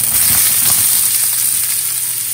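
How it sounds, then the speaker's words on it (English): Chopped onion hits hot oil in a pan for vegan porcini mushroom pasta, giving a loud, steady sizzle and crackle close by with no talking. "For the moment, the oil is hot enough. We will add the 1 onion that we chop like this."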